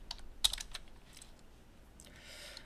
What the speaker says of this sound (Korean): 반대로 들어갈 때는 Shift 탭을 누르면 이렇게 백 합니다.